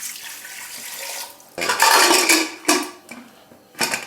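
A glass of water is poured into a pressure cooker holding about 250 grams of sweet potatoes, giving a splashing pour after a short rustle, with brief clinks of the pot and more splashes.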